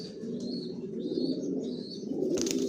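Racing homing pigeons, young Johnson maxi racers, coo softly in a loft in a low continuous murmur, with a few faint chirps and a brief flutter of wings near the end.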